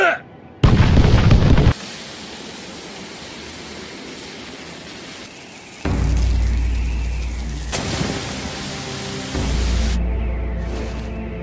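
Heavy booming blasts from an anime ninja battle between Gaara and Deidara, loud low-end bursts arriving in several surges with rumbling tails and no talk.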